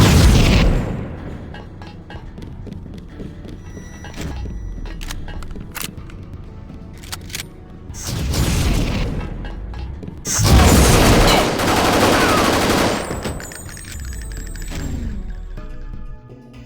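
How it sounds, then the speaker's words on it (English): Plasma rifle fire in Deus Ex, heavy booming shots and explosive bursts arriving in several loud clusters separated by quieter stretches of rattling game noise, close and without talk. "That's a plasma rifle."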